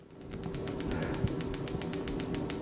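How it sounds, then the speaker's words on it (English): A Delta Pulse magnetic field stimulation device clicks in a fast, steady repeating pattern under a dense, buzzing electrical hum. "you can hear how that clicking settles down"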